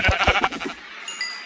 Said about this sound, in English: in the corner, I see a sheep jumping and bumping